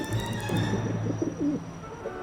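A pigeon in Syberia The World Before gives several soft, low coos in a short rhythmic run, close and fairly quiet over a faint steady background hum.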